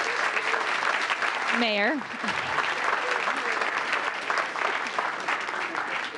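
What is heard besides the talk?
audience applause for group 3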